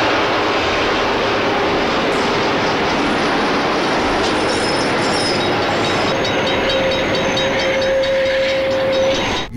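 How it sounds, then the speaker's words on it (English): Commuter train braking hard to a complete stop: a loud, continuous heavy rumble with a steady high squeal that rises near the end before the noise cuts off. "commuter train has managed to brake hard enough to come to a complete stop right in the nick of time"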